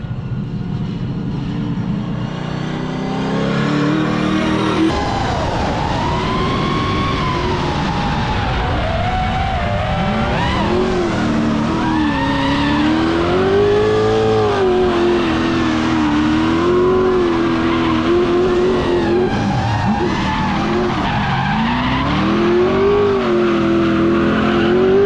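A race car at Mission Raceway revs hard with a loud, shifting engine whine rising and falling through gear changes, tires squealing and skidding as it drifts, sustained and close without talk.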